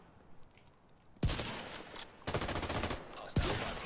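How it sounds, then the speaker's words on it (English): A sharp, loud gunshot in Assassin's Creed Shadows cracks out after a quiet lull, followed by a burst of rattling fire and a second close shot. "Taking the shot!"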